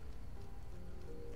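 Rainfall in the video game Skyrim gives a soft, continuous wash of drops under a low rumble, quiet and even throughout with no voices.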